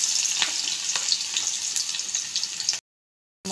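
Onions and panch phoron frying in hot oil give a steady close crackling sizzle with scattered pops, stopping abruptly near the end.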